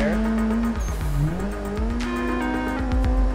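A car slides sideways through a handbraked drift in the Assetto Corsa racing sim, its tyres squealing loudly over a steady, wavering engine drone that rises and falls as it revs.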